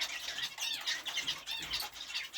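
Budgies and finches in an outdoor aviary flight chirp and twitter continuously with some wing flutters, small and fairly close, with no talking.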